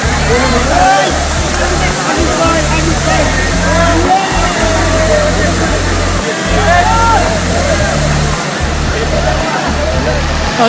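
Rupshi waterfall pours down during heavy rain, a loud continuous roaring wash of water that fills the whole stretch, with faint voices buried beneath it.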